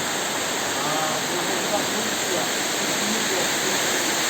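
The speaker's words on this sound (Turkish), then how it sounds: "Gelin Kayası mevkiine ve şelalesine geldik." Waterfall at Gelin Kayası near İsmail village, Çatalzeytin, Kastamonu, roaring as a steady, dense broadband rush of falling water that holds even and close throughout, with no talk over it.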